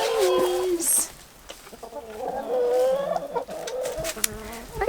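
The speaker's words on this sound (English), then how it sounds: "let's go and check out the old chickens in the greenhouse." Chickens kept in a greenhouse cluck and squawk in varied, rising calls up close, with a brief buzz of an insect in the background.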